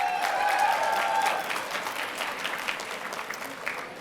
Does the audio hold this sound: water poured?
no